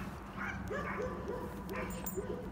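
A Doberman gives a string of short yips and barks close by during outdoor off-leash training, with a voice faintly underneath.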